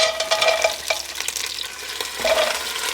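Frozen onions hit a hot pan for a Greek beef stifado, giving a loud, close sizzle with crackling bursts and brief stirring scrapes throughout.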